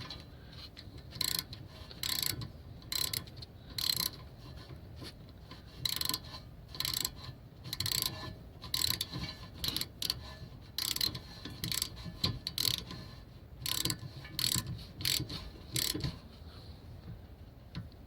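Ratchet clicking repeatedly while tightening the rear brake bolts on a Vauxhall Mokka during a rear disc and pad replacement, in steady bursts of close, crisp ticks with short pauses between strokes.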